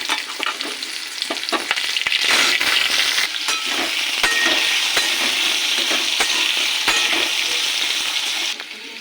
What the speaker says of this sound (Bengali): আলুটা একটু ভেজে নিয়েছি।